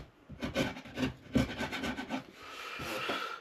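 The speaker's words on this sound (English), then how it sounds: "Let's slice it for that MDF pretty quickly." A Parkside power saw slices through a sheet of MDF in a home workshop, a rough, rasping cut with several strong surges of the blade in the first seconds, then a steadier, lighter hum toward the end.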